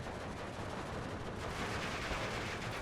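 Tank gunfire in the Steel Division WWII strategy game, with ISU and Panzer IV tanks in battle: dense, continuous booming and crackling bursts of battle noise filling the whole stretch at moderate loudness.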